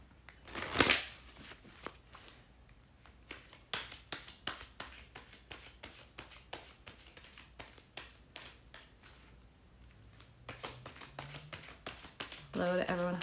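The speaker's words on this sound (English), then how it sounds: "Let me pull a card for Angel" A deck of tarot cards is shuffled by hand close up in a quiet room, with rapid riffling and flicking bursts and a sharp slap at the start, as a voice talks quietly throughout.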